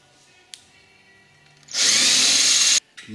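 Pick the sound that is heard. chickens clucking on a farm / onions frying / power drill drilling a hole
power drill drilling a hole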